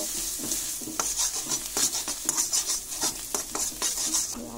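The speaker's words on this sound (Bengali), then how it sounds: "ধনেপাতা দিয়ে খুব সুন্দর করে নেড়ে নেব" Spatula scraping and stirring lote fish jhurjhuri with chopped coriander in a pan, a steady series of close scraping and light clanking strokes with a faint sizzle underneath, no talking.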